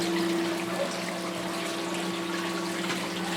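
Water pours steadily from a sea swirl return into a reef tank, a continuous rushing wash over a low, constant pump hum with no pauses.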